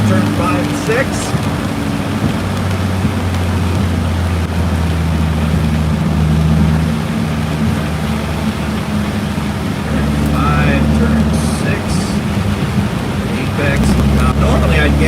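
A car drives around a muddy race track, its engine droning steadily throughout with low rumbling tones and surges of throttle, fairly loud and continuous, with talk over the top.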